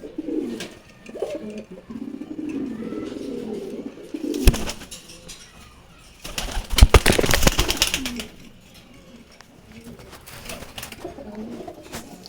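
Pigeons coo steadily in low, throaty calls, with a couple of louder flurries of flapping or rustling partway through.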